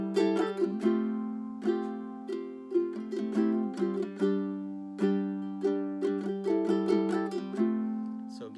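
A ukulele plucks the opening melody of a song, clear repeated notes with sliding phrases over a ringing G, played alone and close.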